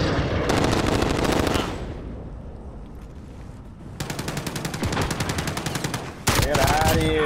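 Rapid automatic gunfire in Call of Duty Modern Warfare multiplayer, with dense bursts of shots, a quieter lull, then renewed sustained firing near and loud, ending in a sharp blast.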